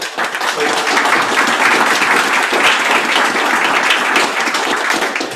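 A breakfast business event crowd gives a chef steady, loud applause from start to finish, a dense, unbroken wash of clapping close by.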